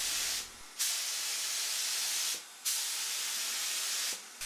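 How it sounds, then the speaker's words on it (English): Long, steady hissing passes of a spray gun laying 2K acrylic top coat onto car panels, three sustained bursts separated by brief pauses, close and loud with no speech. "I did a coat directly over the primed areas"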